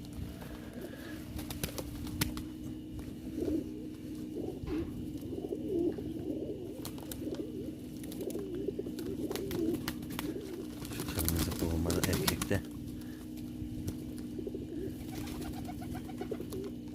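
Pigeons coo steadily and close by during a winter bath, their soft repeated rolling calls continuing throughout over a low hum, with some splashy rustling midway.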